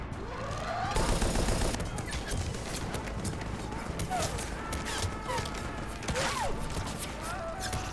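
Mass Effect Legendary game combat, with loud cannon and gunfire bursts rattling in rapid succession over layered effects and music, a sharp swelling blast near the start and scattered impacts after it.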